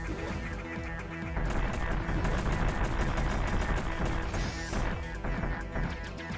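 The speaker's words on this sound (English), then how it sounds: "Missiles! Samus's missiles." Rapid volleys of Samus's missile shots fired in the video game AM2R, a Metroid 2 remake: loud, repeated bursts crackling over several seconds with a brief swell in the middle.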